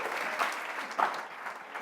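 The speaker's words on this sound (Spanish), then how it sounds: "¿Cuántos dan un aplauso al Señor?" A church congregation claps during a Spanish-language sermon, a brief, fairly faint burst of applause swelling twice over about two seconds.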